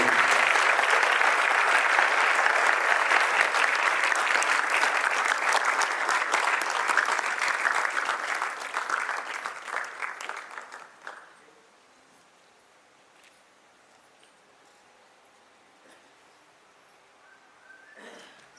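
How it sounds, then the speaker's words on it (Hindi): Loud, dense applause from a large convocation audience welcoming a speaker to the stage fills the room, holding steady and then fading out, followed by near silence. "ज़ोरदार तालियों के साथ हम उनको स्टेज पर वेलकम करेंगे"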